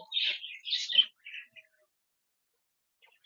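Pet budgerigars in a cage give a quick burst of bright, high chirps in the first second and a half, then go quiet apart from a faint tweet near the end.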